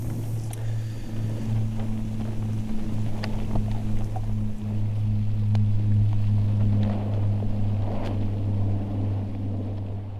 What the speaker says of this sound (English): the breeze that I am getting is making the outside of the tent vibrate